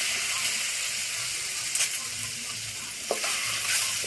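Eggs frying with salt, chili powder and chicken masala in a pan, a steady broad sizzle with a few scraping stirs, no talk over it.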